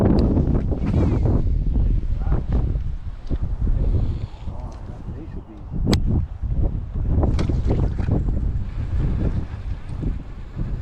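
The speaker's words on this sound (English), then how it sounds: "This wind is blowing right from behind us, straight across. Blowing basically just like this. And it's really picking up." Strong winter wind gusts over a lake from a bass fishing boat, roaring and buffeting the microphone with heavy rumbling bursts while someone talks over it.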